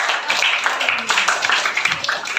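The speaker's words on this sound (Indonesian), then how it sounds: "Oke, beri tepuk tangan untuk teman-teman kamu yang sudah tampil." A classroom of students claps steadily for the classmates who just presented, a busy patter of close hand claps with a few voices mixed in.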